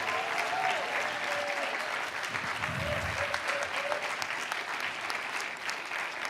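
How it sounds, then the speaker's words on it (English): A crowd of attendees at a hackathon demo event claps steadily for volunteers and organizers, dense sustained applause at a moderate level without break. "can we give a big round of applause to our volunteers"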